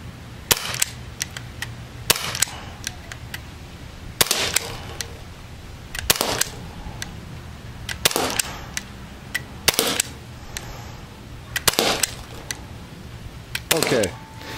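Gamo PT-80 air pistol firing pellets in a backyard, a series of sharp, loud pops spaced about two seconds apart, each followed by brief metallic clicks and handling noise.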